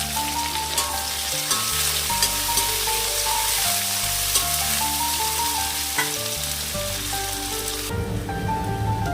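Steady sizzling of chopped cabbage frying in a pan, with a continuous crackle and occasional stirring scrapes, close and fairly loud throughout.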